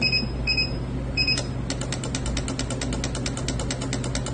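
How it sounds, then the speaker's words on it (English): A Mercury outboard marine engine cranks and catches, then settles into a steady rapid mechanical ticking over a low hum, close by. "And I'm gonna start the engine"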